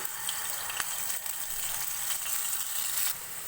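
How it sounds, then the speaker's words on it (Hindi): A tablespoon of garlic ginger paste fries in lightly heated oil over low heat, giving a steady, close, hissing sizzle with faint crackles and pops throughout. "लहसुन अदरक को ऑयल में हल्का सा फ्राई करेंगे।"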